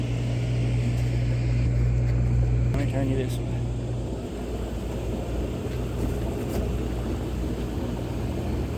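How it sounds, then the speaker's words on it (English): A newly hooked-up hot tub running outdoors on a farm in the evening, giving a steady low hum and motor drone throughout while a person talks over it. "You might be able to hear a humming in the background."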